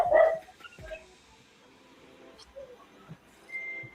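A dog gives a single loud bark at the start, followed by a few fainter yips and small noises in a quiet room.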